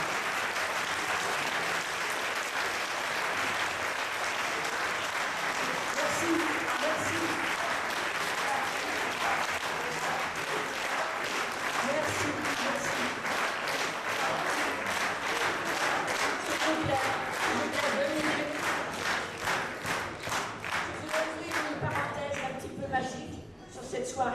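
Audience in a theatre hall applauds a stage performer at a variety show, a long dense wash of clapping that stays loud throughout, thinning slightly into scattered claps at the very end.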